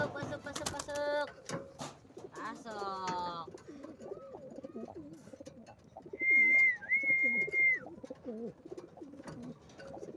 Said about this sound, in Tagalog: Ating kalapate, oh. Ang laki, oh.